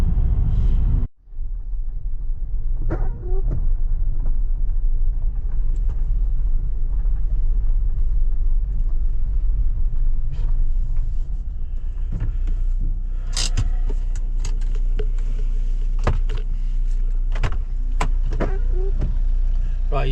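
A Land Rover engine running steadily while driving, a loud, constant low rumble with road noise inside the cab, broken by a brief dropout near the start and a few clicks and knocks over the drone.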